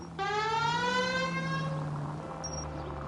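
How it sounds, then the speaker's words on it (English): A police car siren in the L.A. Noire video game wails as a single rising and falling tone, fairly near and steady, then slowly winding down in pitch and fading toward the end. "The siren might keep people out of your way"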